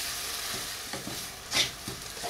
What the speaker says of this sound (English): Keep stirring so that milk goes in every part of this mixture.